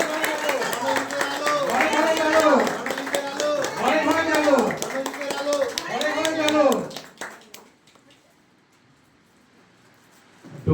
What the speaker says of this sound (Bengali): সবাই হাত করতালি দিয়ে উৎসাহ দেবেন ওদেরকে।